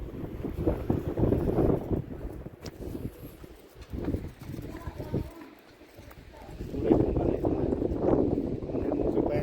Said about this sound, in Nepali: यस्तो हावा चाहिँ उस्तै परे पातलो पातलो मान्छेलाई त उडाउँदो रहेछ